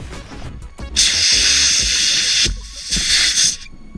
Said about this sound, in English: Once you've reached around 10 psi, switch to a single inflation mode until you reach 12 psi.